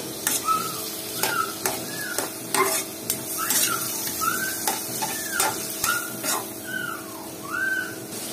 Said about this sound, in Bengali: এই তো ডাটা চিংড়ি মাছ খুব ভালোভাবে কষিয়ে নেওয়া শেষ